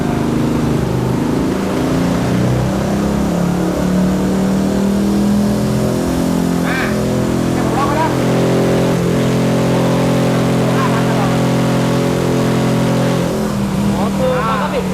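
A car engine runs hard on a dyno, holding a loud, sustained drone whose pitch climbs and shifts through the revs. Voices are faintly present beneath it.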